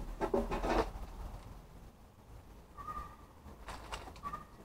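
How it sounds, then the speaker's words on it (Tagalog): Pigeons or doves cooing outdoors on a grassy spot as birdseed is scattered for them, with soft coos and light rustling or fluttering, fairly near and moderately quiet. "Kasi may mga birds dito"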